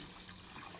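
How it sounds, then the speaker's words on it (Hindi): Water poured into a pan of fried fish in a village kitchen, a steady close hiss and splash of running liquid filling the short moment without any talk. "तो ये भून चुका है, इसमें हम डाल देते हैं थोड़ा सा पानी"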